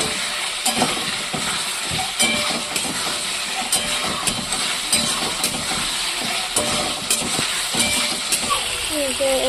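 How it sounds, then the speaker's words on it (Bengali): Potato and pointed gourd being stirred into spices frying in released oil for a rohu fish curry, a loud continuous sizzle with repeated scraping and stirring strokes throughout. "এরপরে যে আলু আর পটলটাকে দিয়ে দেবো। আলু পটলটাকে দিয়ে মিক্স করে নেবো।"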